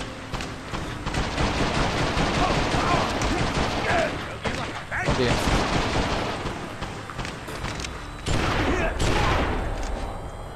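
Dense, sustained bursts of gunfire and explosions in the Western video game Gun, loud and continuous, with rapid volleys and booming impacts rising and falling throughout.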